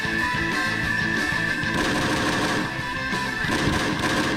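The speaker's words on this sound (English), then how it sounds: "the player will be exposed to indestructible turrets once again. And he has to carefully maneuver through so that he doesn't get hit by the bullets" Indestructible turrets in a video game fire bullets in rapid, repeating bursts of rattling gunfire layered over looping game music throughout.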